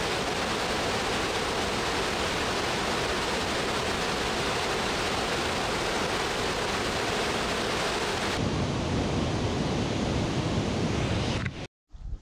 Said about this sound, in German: An engeren Stellen wird der Fluss besonders wild.